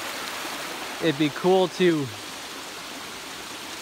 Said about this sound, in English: So, what do you think of the waterfall?